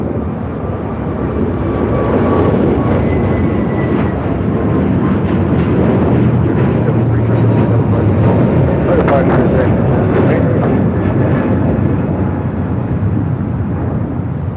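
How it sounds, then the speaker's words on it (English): A heavy Delta jet taking off from runway 25 right at LAX, a loud sustained broadband roar that stays steady and close for the whole stretch, with radio chatter faintly underneath. "Delta 488 heavy RNAV Docker and 25 right clear for takeoff."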